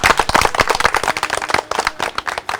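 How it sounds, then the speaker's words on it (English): A group claps loudly and close by in quick, irregular bursts of sharp hand strikes, an energetic round of clapping with no talking over it. "let's clap for ourselves"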